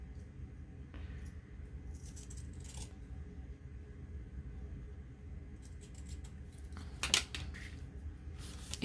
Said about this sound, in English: I don't know what's going on with my scissors today.